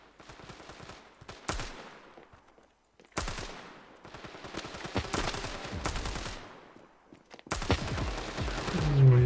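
Gunfire in the Standoff 2 mobile shooter during a 2v2 match, with several loud, close bursts of rapid automatic shots separated by short quiet gaps.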